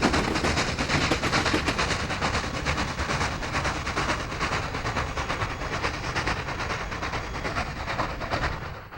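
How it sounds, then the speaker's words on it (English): A B&O Big 6 steam locomotive returns to Rossford Yard running light as a cab hop, giving a continuous loud rumble with dense rapid clatter and chuffing throughout and no voices. "The Big 6 we saw earlier returns to Rossford Yard cab hop"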